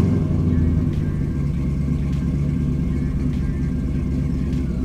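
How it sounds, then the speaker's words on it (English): A restored 1957 Chevy 210 wagon with a swapped-in Corvette engine idles with a deep, steady rumble, loud and close, holding constant throughout with no talking. "And when you hear the car run, it's pretty phenomenal."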